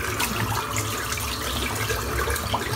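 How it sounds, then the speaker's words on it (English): Water runs steadily from a tap as a small 30mm whipped dog boar shaving brush is rinsed, a close, continuous splashing gush with no voices. "Just rinsing the brush out"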